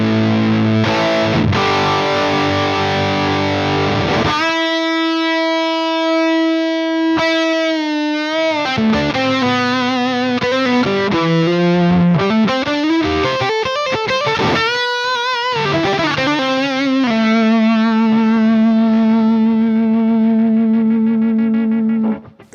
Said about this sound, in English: now you can determine how much overdrive you want to blend into that sound we already have.